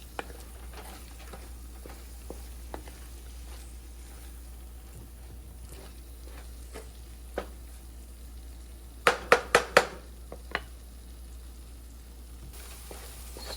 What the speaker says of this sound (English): So I'm going to fry for a while again to get that.